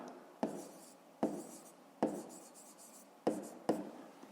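Pen strokes on paper during a fifth-grade math exercise, a series of soft scratchy writing sounds with sharp taps at each new stroke, close and quiet.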